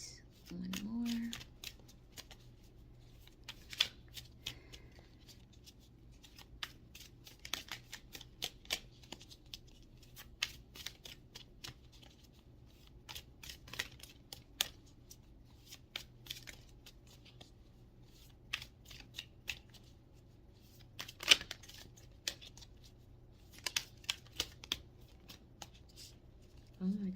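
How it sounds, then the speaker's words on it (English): A deck of tarot cards is shuffled in quick, faint riffling bursts and soft taps scattered over nearly half a minute in a quiet room, with a voice speaking between them. "I still feel the need to shuffle"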